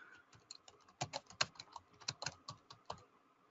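Fingers typing on a computer keyboard nearby, a quick irregular run of soft key clicks with small pauses, alone and fairly quiet.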